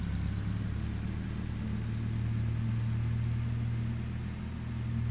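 Jeep engine in a farming video game, a steady low rumble held evenly throughout, close and loud, with no talk over it.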